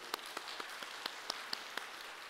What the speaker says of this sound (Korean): 영광의 박수.